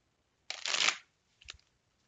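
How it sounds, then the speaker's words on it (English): Tarot cards are shuffled by hand, giving a sharp riffling burst of about half a second and then a brief softer tap, close and quiet, with no talking. "Let me try shuffling real quick."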